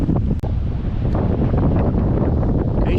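Strong, buffeting wind on Fraser Island at Eli Creek, a loud continuous rumbling roar battering the microphone for the whole stretch, with no voices.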